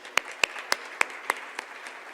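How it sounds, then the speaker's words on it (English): Sparse, scattered claps from a small awards-ceremony audience honoring student presenters, about eight distinct hand claps spread over two seconds, fairly quiet and thin rather than a full ovation. "let's give them a round of applause"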